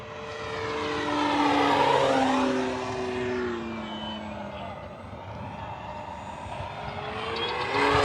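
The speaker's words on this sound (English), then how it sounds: "It's one of these big planes that you're just in awe of it the whole time you're flying." An FMS Pitts V2 1400mm RC model biplane flies overhead, its propeller engine whine rising and falling in pitch as it passes near and away, steady and fairly loud.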